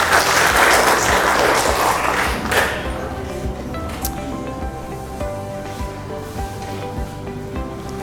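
A classroom of students applauds, a dense burst of clapping for roughly three seconds that fades into quieter room noise and scattered sounds.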